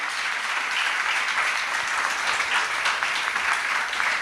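An audience applauds to encourage a young girl at a gathering about a new temple, dense continuous clapping at an even level with no breaks.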